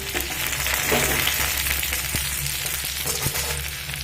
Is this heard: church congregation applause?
no